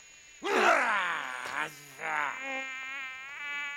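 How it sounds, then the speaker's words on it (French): A mosquito in an animated adventure makes a stylised buzzing drone: a strong burst that wavers in pitch, a brief gap, then weaker, quivering buzzes that trail off, all close and clear. "Un moustique. Cette sale bête a bien failli me piquer."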